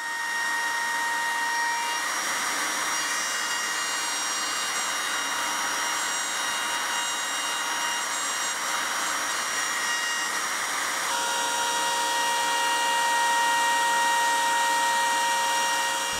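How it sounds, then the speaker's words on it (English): A wood router fitted with a profile bit cuts letter outlines in a carved star project, giving a continuous high whine that holds steady for the whole stretch with a slight shift in pitch partway through. "To make a smooth cut, keep the router moving."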